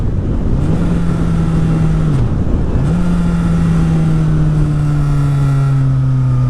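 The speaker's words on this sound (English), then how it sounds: "you're blipping the throttle to bring the RPMs up to match the speed of the transmission" Motorcycle engine revving under steady road wind noise as the rider blips the throttle during a rev-matched downshift, with the pitch dropping, briefly dipping, then rising again and holding steady at speed.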